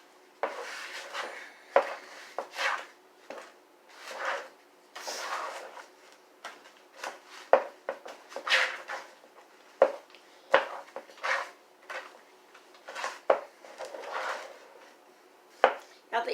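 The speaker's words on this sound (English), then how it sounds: "Now I just stir this all up together." A mixture containing carob powder stirred in a bowl, with soft repeated scraping and clinking strokes at a steady, fairly faint level, some quiet pauses between.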